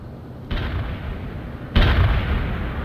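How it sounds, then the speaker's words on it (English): Artillery strike in the PC strategy game World in Conflict: two heavy, booming barrages break over a steady rumbling battlefield bed, the second louder and closer, with no talk. "Artillery strike commenced"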